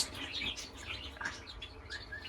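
Pet cockatiels kept at home give a quick run of high chirps and whistles, fairly faint and scattered over a couple of seconds, with no talk.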